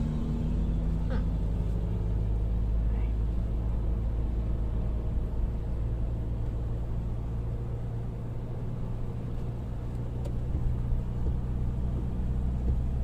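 Manual pickup truck climbing a hill, its engine a steady low rumble close by throughout, with a slight dip in revs partway that fits a gear change, and no talking.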